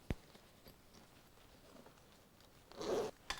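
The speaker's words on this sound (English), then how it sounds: "So you've got a zip here. Goes quite a way. Feels good. Let's open her up." A camera backpack's zipper opening in a quiet room: a sharp click, then faint scratchy zipping that builds into a louder, drawn-out rasp near the end, with no talking.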